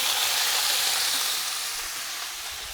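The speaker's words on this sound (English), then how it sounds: "I just wanted to get a nice little sear on it." Meat searing in a hot pan for tacos, a loud, steady close sizzle that eases slightly toward the end, alone with no talk.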